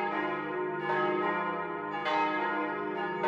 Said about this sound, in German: Als aber die Glocke vom Kirchturm die 11. Stunde schlug